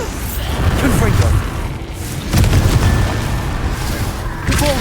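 Spell combat in the Hogwarts Legacy video game, with bursts of booming explosive impacts and crackling magic blasts over background game noise, a voice calling out under the action.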